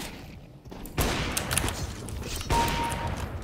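Gunfire in Counter-Strike: Global Offensive, a few sharp bursts of shots with echoing tails, close and fairly loud with no talk over them.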